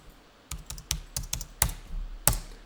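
A number being typed on a computer keyboard into an accounting form: about eight or nine crisp keystrokes at an uneven pace, close and fairly quiet, with no talking.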